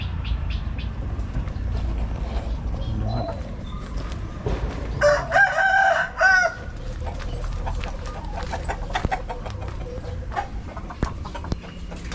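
Rooster crowing by a chicken coop, one loud, drawn-out crow near the middle, with scattered clucks and farmyard noise around it and no talk.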